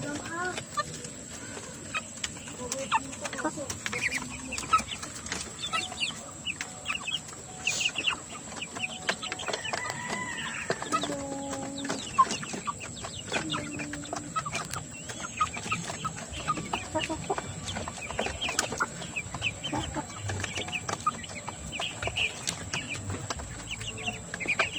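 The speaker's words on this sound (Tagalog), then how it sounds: "Yung mga manok dito sa kulungan." Chickens in their coop give soft, intermittent clucks and calls over a steady high-pitched buzz, close by and fairly quiet, with occasional voices in the background.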